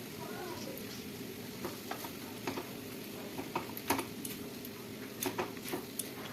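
Pasta is stir-fried with pepper, Maggi masala, soy sauce and tomato sauce, giving a faint steady sizzle with scattered light clicks and taps from the spoon against the pan.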